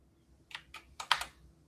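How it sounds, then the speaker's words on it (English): Someone types on a computer keyboard nearby in a short, uneven burst of about five crisp clicks, close and clear with no talking. "I'm typing in chat and I can't hear and type at the same time"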